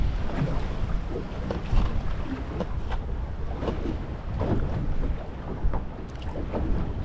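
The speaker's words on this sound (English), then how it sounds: "Oh, this wind is fairly stinking this morning." Strong morning wind out on the water while fishing, a steady roaring rush hitting the microphone with occasional gusty surges, continuous throughout and without speech.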